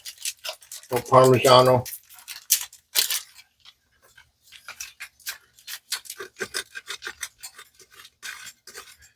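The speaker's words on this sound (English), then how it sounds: "I'm going to grate a little Parmigiano." A block of Parmigiano cheese scraped against a grater gives a short burst of rasping strokes, followed by lighter scraping and clicking sounds, close and clear.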